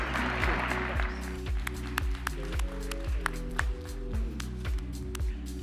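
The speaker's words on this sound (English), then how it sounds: "Round of applause for Kathy Wood here" Scattered audience clapping at a conference stage rises over loud, pulsing electronic music, the crisp claps sitting mid-level and partly buried under the thumping beat.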